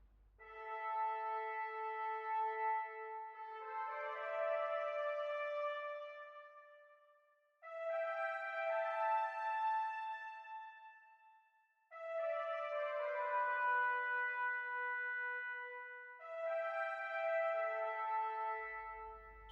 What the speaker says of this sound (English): So it's just 3 trumpets playing different presets.